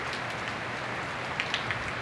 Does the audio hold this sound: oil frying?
no